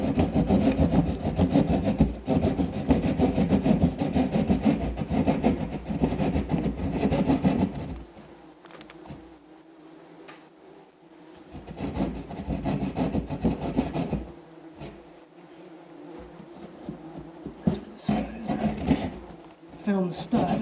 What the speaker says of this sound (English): Just cut along it because they don't usually jump studs.